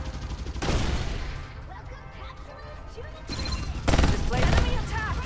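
Bursts of gunfire in the battle-royale shooter Farlight 84, loud volleys around one second and again near four seconds, with a quieter stretch of game sounds and chatter between them.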